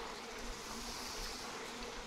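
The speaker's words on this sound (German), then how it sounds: "Wütende Bienen." Angry bees buzz steadily in the video game Far Cry 5, a dense, continuous drone that holds at an even level throughout without pauses.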